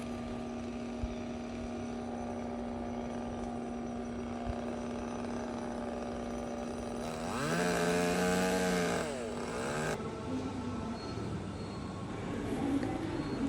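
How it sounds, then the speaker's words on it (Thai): A mechanical sawing sound with a rising and falling whine runs for a few seconds over a steady low hum, then stops abruptly: a simulated saw cutting wood in a mine-work exhibit at a gold mine in Izu, Japan. "ก็จะมีเสียงเลื่อย ตัดไม้เหมือนของจริงเลยค่ะ"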